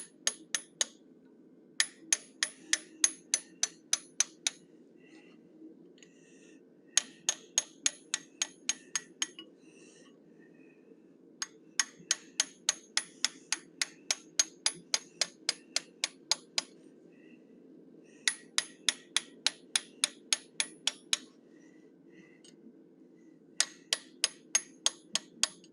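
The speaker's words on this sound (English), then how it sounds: "I'm using my 1/8 inch fuller again. I'm going to flare it" A 1/8 inch fuller is struck with a hammer to flare and texture a forged cougar or lynx head. Bursts of rapid, ringing metallic blows come close and loud, with short pauses between runs and no talk.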